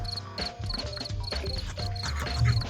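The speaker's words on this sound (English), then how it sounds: "Where did all these crickets come from?" Crickets chirp in a steady loop in the video game Danganronpa: Another, a repeating high insect trill over a continuous background music bed, with no talk.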